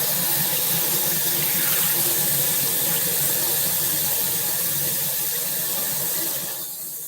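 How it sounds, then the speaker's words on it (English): Tap water runs steadily into a kitchen sink while fingers are rinsed under it, a continuous close hiss and splash that fades out at the very end. "Rinse off my little fingers."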